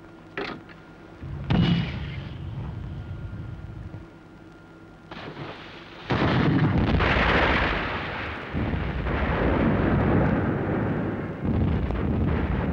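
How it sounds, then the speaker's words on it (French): Depth charges exploding underwater as a 1950s war-film effect: a few separate deep booms early on, then a long loud rumbling roar of churning detonations and water that swells and sustains to the end. "Des grenades sous-marines."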